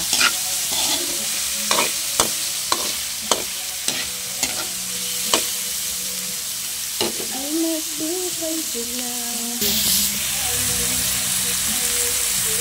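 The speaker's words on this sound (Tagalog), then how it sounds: "Ilagay ko na yung ating squid roll saka tempura." Squid roll and tempura frying in hot oil, a steady sizzle with repeated sharp clanks of a utensil against the pan and stirring, close and fairly loud, with faint voices in the background.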